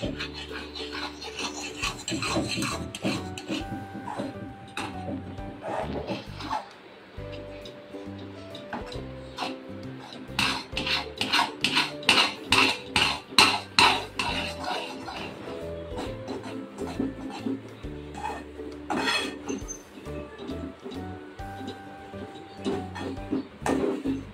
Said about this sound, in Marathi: आणि असं छान ढवळून घ्यायचं पीठ